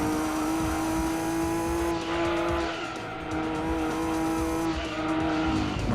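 Tyres skid and squeal in Gran Turismo 2 as a race car slides through a corner on worn tyres, a steady engine drone beneath the screech, loud and continuous throughout.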